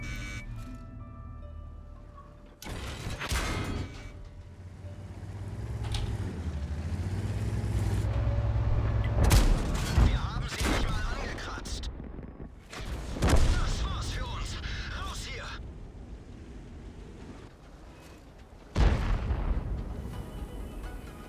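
Tank cannon blasts from World of Tanks firing APCR rounds: several loud, booming shots spaced seconds apart. Each one cuts through rumbling engine noise and battlefield clatter, with a voice talking in between.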